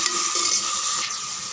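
Tomatoes and mint sautéing in a pan for biryani give a bright, steady sizzle with soft stirring scrapes, close and continuous for a moment, with no voices.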